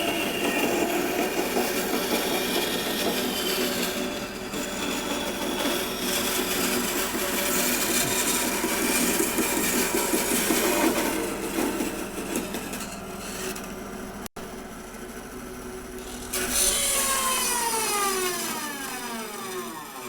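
Bandsaw blade running through a photinia wood flitch, a steady loud rasping cut that carries on without a break, then eases off and slows as the blade winds down near the end.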